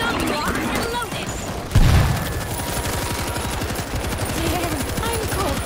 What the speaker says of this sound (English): Machine gun locked and loaded.